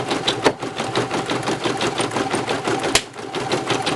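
A home embroidery machine stitches out a marine vinyl keyfob, giving a fast, steady mechanical chatter of needle strikes close by, with one sharper knock near the end.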